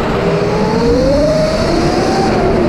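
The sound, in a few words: motorbike passing at speed on track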